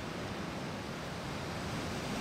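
High winter waves break on Jeongdongjin beach on Korea's east coast, a steady, loud wash of surf with wind and no voices.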